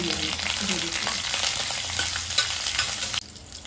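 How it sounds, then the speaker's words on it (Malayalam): Peppercorns, cardamom, cumin and green chillies sizzle steadily in hot oil for a restaurant-style soya chunks dish, a loud, continuous crackling fry that drops away abruptly near the end. "ഇതെല്ലാം കൂടെ ഈ ഓയിലിൻ്റെ അകത്തോട്ടിട്ട് കൊടുക്കാം"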